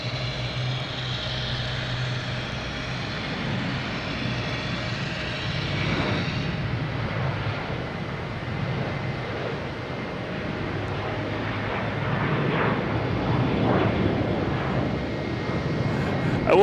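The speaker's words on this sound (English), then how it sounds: "We have United Airlines taking off, heading to Chicago, 737. 900, flight 1015." A United Airlines Boeing 737-900 takes off at Boston Logan, bound for Chicago, its jet engine roar a steady broadband rush that swells and grows louder toward the end, heard from a distance with no voices.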